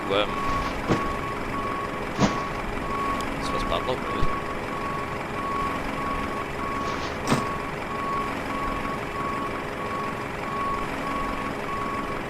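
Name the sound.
HGV truck reversing beeps in Microsoft Flight Simulator video game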